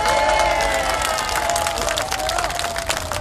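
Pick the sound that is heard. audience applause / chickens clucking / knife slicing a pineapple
audience applause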